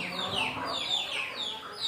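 Chickens clucking close by, several repeated rising calls overlapping in a busy, continuous farmyard chatter.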